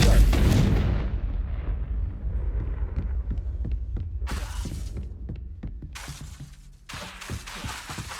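Repeated explosive spell blasts in the video game Hogwarts Legacy: a heavy booming burst at the start, then a run of rhythmic thuds with sharp bright flares of impact noise later on, loud and close.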